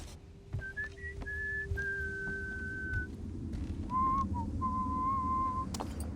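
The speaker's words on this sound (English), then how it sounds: "Now who's whistling?" A character in the stealth game Thief whistling a slow tune of long held notes, one stretched tone after another with brief pauses, set against a low rumbling ambient hum and occasional faint knocks.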